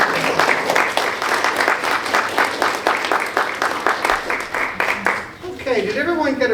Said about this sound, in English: please give a warm round of applause to our opera